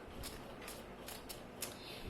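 A tarot deck shuffled by hand gives off a handful of soft, papery riffling bursts at an uneven pace, quiet and close, with no voices.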